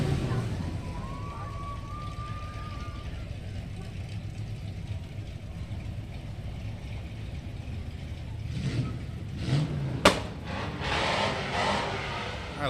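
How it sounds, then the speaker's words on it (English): At an outdoor car cruise, a passing car's engine lets out a single sharp backfire pop over a steady low hum of idling and traffic, with a brief engine swell just before it. "A little backfire there."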